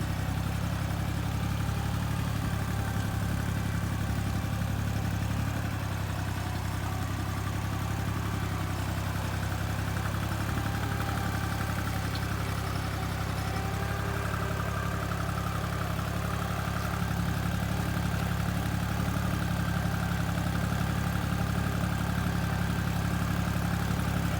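Tractor engine working steadily between cabbage rows on rain-packed soil, a continuous low rumble with a mid-pitched drone that holds loud and even throughout.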